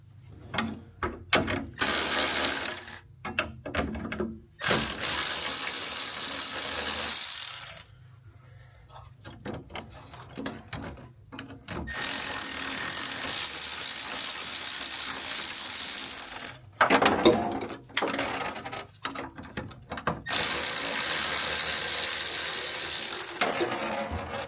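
A ratchet wrench removes the bolts from a vehicle's throttle pedal in close bursts of rapid clicking, broken by short pauses and metallic handling noises, with no talking.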